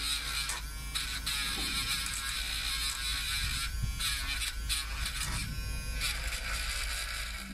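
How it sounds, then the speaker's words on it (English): A Dremel rotary tool with a buffing tip polishing a glass bottleneck slide for a cigar box guitar, a loud continuous high-pitched motor whine with slight changes in load, close and alone. "Dremel, if you've got one, with a buffing tip on it,"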